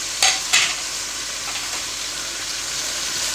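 Chicken karahi with black pepper, salt and dried coriander frying in the pan, a steady broad sizzle after two quick clattering stirs, continuing evenly and close with faint stirring underneath.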